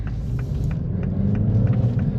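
A 2024 Mini Cooper S 3-door with a 6-speed gearbox idles in sport mode, its engine holding a steady low rumble that swells slightly, close and fairly loud.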